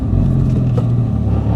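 A Porsche 992 S/T flat-six engine running loud and close, a deep steady rumble with a slight surge partway through, no voices over it.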